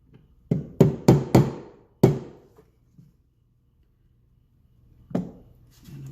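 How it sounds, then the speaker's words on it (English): Light hammer taps seating night sights on a Glock 44 pistol slide, with no vise or sight pusher: a quick run of five sharp close knocks, a pause, then one more tap. "And I'm tapping lightly because I don't want to go too far"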